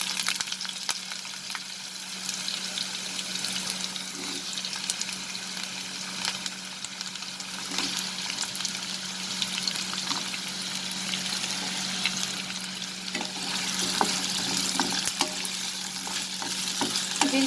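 Potatoes frying in hot mustard oil in a karhai over a medium flame, a dense continuous sizzle with crackles and occasional stirring clicks, close and steady throughout, no talk.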